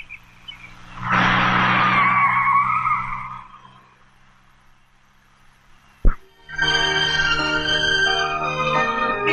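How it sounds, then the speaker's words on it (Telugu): A car skids to a stop in a loud screeching burst of tire squeal lasting a few seconds. After a pause and a sharp thud, another long, harsh tire screech follows. "మళ్ళీ ఇంకో కారా?"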